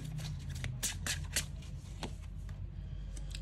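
Tarot cards are shuffled close by in a steady riffling run, with crisp flicks and slaps of the deck over a low background hum.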